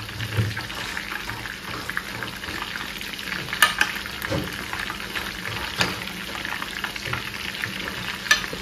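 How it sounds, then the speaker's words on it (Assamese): Chicken sizzles steadily in hot oil in a kadai, a constant crackling hiss with occasional louder pops and stirring clicks, close by. "একদম মজাকৈ ফ্ৰাই কৰি লওঁ গাইছ একদম মজাকৈ উতলি আছে"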